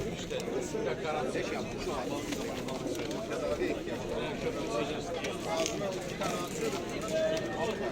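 Pigeons coo and birds chatter amid a busy outdoor crowd at the Edirnekapı bird market, with steady voices talking throughout and continuous market bustle.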